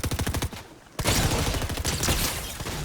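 Rapid gunfire in Fortnite on PC, a fast train of loud cracking shots that stops for a short beat, then comes back as a dense, sustained volley under heavy game noise.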